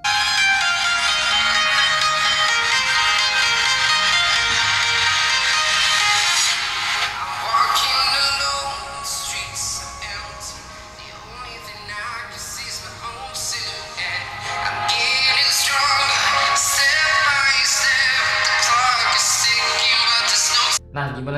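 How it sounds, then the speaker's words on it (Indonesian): An Infinix Smart 8 budget phone speaker plays a ringtone or music track, bright and tinny, running steadily for about twenty seconds with a quieter, thinner stretch in the middle before it swells again. "gimana cuy menurut kamu suara dari HP Infinix Smart 8 ini?"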